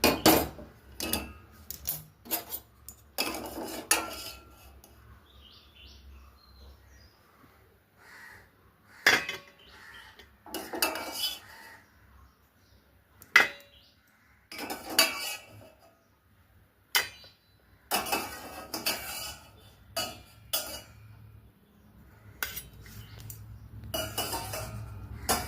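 Boiled nutmeg, lifted out of boiling water, is moved into a vessel with irregular bursts of clinking and clattering utensils and pots, separated by quiet pauses, with no talking.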